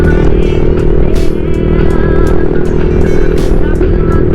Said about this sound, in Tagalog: So sarap magmotor dito sa Mountain Pass ng Sierra Madre.